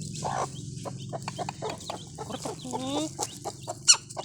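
Chickens cluck close by in short, irregular bursts, with one louder squawk near the end, over a quiet farmyard background.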